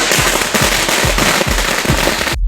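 Firecrackers burst during Diwali in a loud, dense barrage of rapid cracking pops that goes on without a break and stops abruptly at the end.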